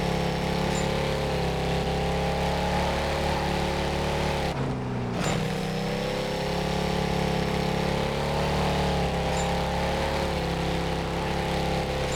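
A car engine in the video game Need for Speed Carbon drones loudly and continuously with a steady, buzzy, lawnmower-like tone, with a brief dip partway through before the same rough hum resumes.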